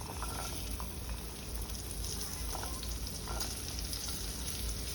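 Green beans sautéing in hot oil with cumin and asafoetida, a steady close sizzle and crackle running throughout with no voices.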